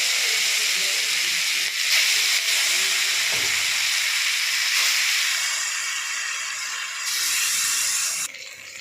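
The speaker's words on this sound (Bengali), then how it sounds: "এবার আমি এই মাছগুলো ভাজা করে নেব" Pieces of rohu fish fry in hot oil with a loud, dense, continuous sizzling hiss heard up close. The hiss swells and eases slightly over several seconds, and no one speaks.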